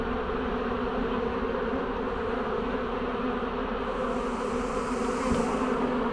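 Honey bees from Norfolk living in a garden ornament, a dense, steady buzzing swarm heard up close, droning continuously without pause.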